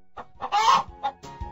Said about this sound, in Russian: Цыпленок.